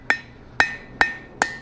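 Four light, evenly spaced hammer blows ring out against a steel center punch being forged on an anvil, each a bright metallic clang with a short ringing tail, close and clear with no talk.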